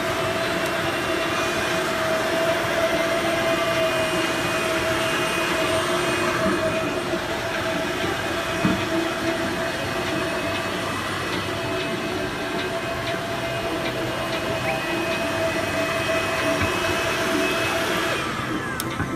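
Duplex Lithium Evolve double-brush floor scrubber running and scrubbing at a Sydney cleaning expo: a constant motor whine and brushing hum, loud and unbroken throughout, with a faint rattle near the end.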